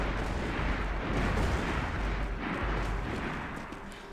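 A grenade blast in Max Payne 3 multiplayer on PC produces a loud, sustained booming rumble with heavy low-end roar that fills the whole stretch and fades slightly at the end.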